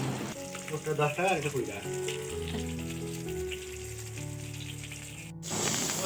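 A second batch of small pond-caught puti and mourala fish hisses and spatters in hot oil, a bright sizzle that swells briefly at first, then settles into a continuous crackle under background music.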